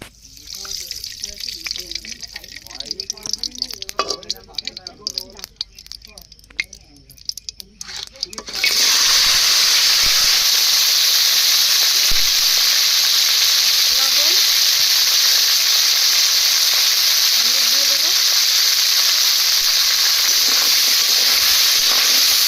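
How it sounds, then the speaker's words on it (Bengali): Crabs hit hot oil and set off a loud, steady sizzle and hiss that runs unbroken for well over ten seconds. Clattering and handling noises come first, and a voice talks briefly before the frying begins. "প্রথমে কাঁকড়াগুলো ভেজে নেব"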